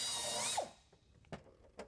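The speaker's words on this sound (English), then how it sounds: "mark the holes in the bracket, drill them" A power drill boring holes in a metal pump bracket to mount beside the battery on a Sport Sierra truck's inner fender: a brief, fairly faint whirring burst followed by a few light clicks and taps.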